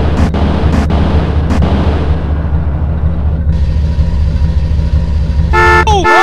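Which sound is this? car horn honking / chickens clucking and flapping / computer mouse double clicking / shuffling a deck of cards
car horn honking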